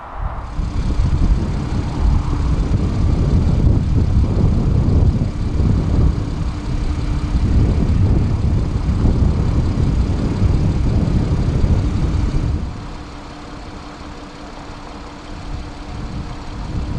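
A 2014 Porsche Boxster S engine running after start-up, a loud, close, continuous rumbling drone that holds steady, then drops to a quieter settled idle toward the end, with no talk.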